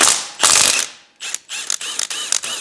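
A ratchet wrench with a 16mm socket loosening an exhaust header bolt on a 2024 Triumph motorcycle, loud close bursts of fast clicking separated by brief pauses.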